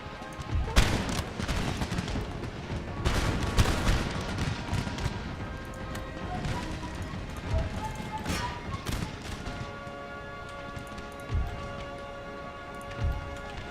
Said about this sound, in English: let's put canister shot right in the center of this army.